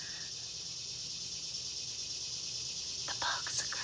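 Crickets and other insects chirp outdoors in a steady, dense high drone that holds through the whole stretch, with a few louder brief chirps near the end and no talk over it.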